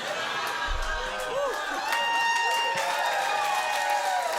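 A live comedy show crowd at a late Saturday show in Toronto cheers and whoops together, a steady wash of voices and some clapping.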